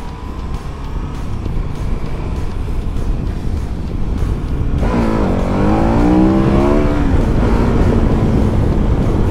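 A KTM 1290 Super Adventure motorcycle accelerates hard, its engine note loud and close, climbing in pitch through rising revs about halfway through, with steady wind and road rush underneath.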